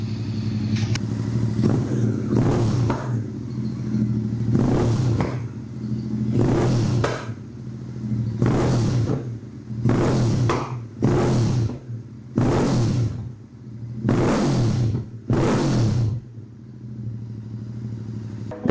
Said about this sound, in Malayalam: ഇതാണ് നമ്മുടെ സിൽവർ സ്റ്റാലിയൻ എക്സോസ്റ്റിൻ്റെ സൗണ്ട്